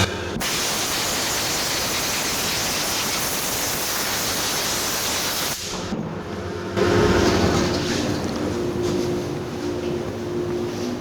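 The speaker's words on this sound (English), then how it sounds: "We'll get it out and blow off all the dust." A loud, continuous rush of air blows dust off the dashboard parts of a 1982 Jeep CJ7, breaking off briefly midway and then resuming.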